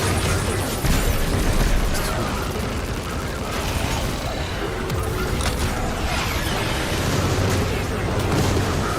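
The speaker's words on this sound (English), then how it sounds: "Oh, the explosions." Dense, rumbling booms and bursts pile up in quick succession in the video game Destiny 2, a loud chaotic barrage of explosions with mechanical clatter.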